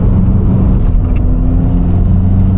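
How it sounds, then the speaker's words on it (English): Vauxhall Astra engine accelerating from inside the car, a loud, steady, low rumbling drone with no talking. "Instant power as well, you hear it? It kicks in."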